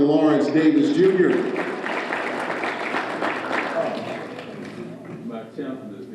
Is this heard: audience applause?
yes